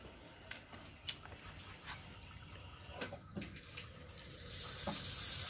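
A tap opened on a fresh water supply line feeding a gas geyser, faint trickling and splashing that builds into a steadier rush of running water toward the end, with no talk.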